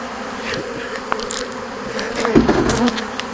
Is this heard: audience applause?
no